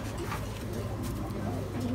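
High flyer pigeons cooing softly with low repeated coos, heard under a continuous background hum and nearby talk.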